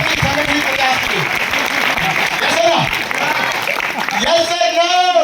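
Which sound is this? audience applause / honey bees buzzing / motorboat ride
audience applause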